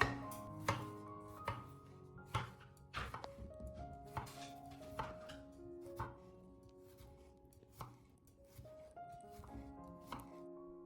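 A knife chops food on a cutting board held steady on a kitchen counter by strips of torn rubber glove underneath, giving a run of irregular, fairly close knocks under background music.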